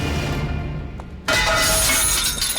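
A car's glass window shatters loudly and suddenly after a brief lull, followed by a sustained crash and tinkle of breaking glass.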